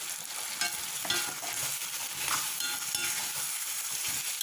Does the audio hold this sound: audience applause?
no